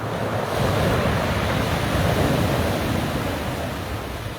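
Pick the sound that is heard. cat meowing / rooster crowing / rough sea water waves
rough sea water waves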